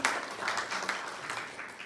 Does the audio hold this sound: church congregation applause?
yes